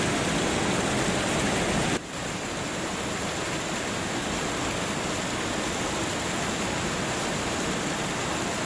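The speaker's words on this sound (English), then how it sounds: "Crazy looking waterfalls." Waterfalls rushing in a steady, dense wash of falling water, loud and unbroken, with a brief shift in level near the start.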